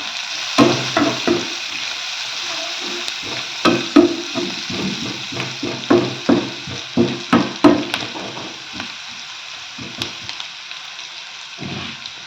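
Onions with turmeric frying in a pan are stirred, giving a steady sizzle broken by repeated scraping, clattering strokes of the spoon that come in quick bursts, then thin out toward the end.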